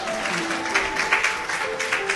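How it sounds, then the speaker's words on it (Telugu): Applause from an audience seated at a public gathering, a steady patter of many hands clapping together for a couple of seconds, fairly close and even in level. "ఒక్కసారి ఆయన కోసం చప్పట్లు"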